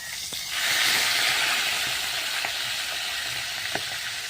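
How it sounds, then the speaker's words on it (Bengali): Katla fish heads fry in hot oil with a steady, dense sizzle and hiss, a few soft clinks and stirring taps standing out, close and alone. "লাল লাল করে মাছের মাথাগুলো ভেজে নেব"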